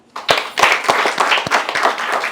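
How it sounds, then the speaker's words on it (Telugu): A small audience at a makeup academy gathering claps together, a burst of sharp, close, irregular hand claps that starts suddenly and carries on briefly. "సో ఒక్కసారి అందరం చప్పట్లు కొడదాము."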